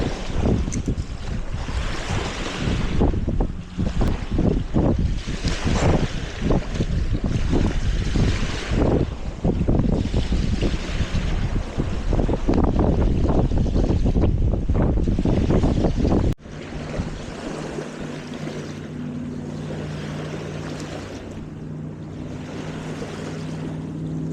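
Strong wind gusts across a lake at a campsite, a loud, steady roar buffeting the microphone with lapping water beneath, easing to a lower, steadier rush partway through.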